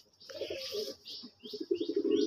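Red native pigeons coo close by in a loft, soft repeated notes building into a steady, throbbing coo over the last second, with no voices.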